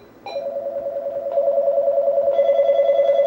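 A telephone on a call-in line emits a steady electronic tone that steps up in layers over a few seconds, loud and close, with no talking.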